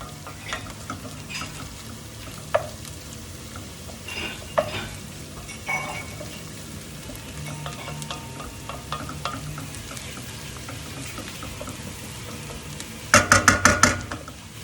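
Garlic and chilies fry in a pan with a continuous crackling sizzle, broken by occasional stirring scrapes and a quick burst of loud clattering near the end.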